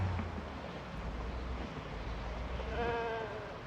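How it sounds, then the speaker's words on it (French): A goat in the video game Project Zomboid bleats once near the end, a wavering mid-loudness call over steady low rumbling ambience. "puis une chèvre"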